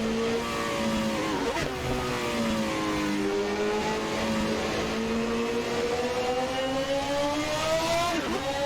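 A 1991 Formula One car engine in Assetto Corsa howls at high revs near 11,000 RPM, climbing in pitch, dipping sharply at gear changes around the middle and end, loud and close with no voices.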